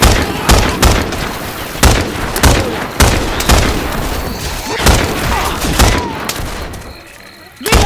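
Rapid, loud gunfire rattles almost without pause in the zombie shooter Left 4 Dead 2 on the Dark Carnival level, with heavy booming shots standing out and voices calling over the din.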